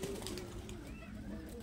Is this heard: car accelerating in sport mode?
no